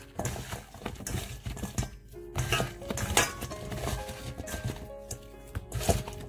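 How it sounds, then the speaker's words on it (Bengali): Pumpkin pieces being mixed by hand with turmeric, chili powder and salt in a bowl: irregular clinks, taps and soft squelching patter, close and busy, with no voices. "ভালো করে এগুলোকে মাখিয়ে নিচ্ছি যাতে প্রতিটা পিঠের মধ্যে হলুদ মরিচ এবং লবণ গুঁড়োটা লেগে যায়।"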